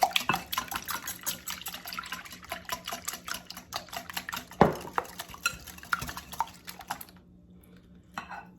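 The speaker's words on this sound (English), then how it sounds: "Now we're gonna whisk in our 1 cup of milk." Milk whisked into a quiche egg mixture in a bowl, rapid rhythmic metal tines clicking and tapping against the bowl for about seven seconds, then stopping abruptly with a final faint tap.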